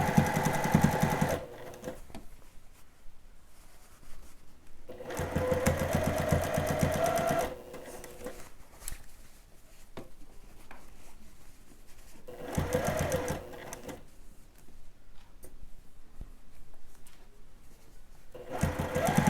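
A sewing machine stitching a dress bodice, backstitching to lock the seam, running in several loud, steady bursts of several seconds each, separated by quieter pauses with faint handling noise.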